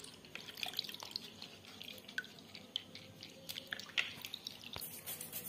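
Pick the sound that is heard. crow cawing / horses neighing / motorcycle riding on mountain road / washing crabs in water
washing crabs in water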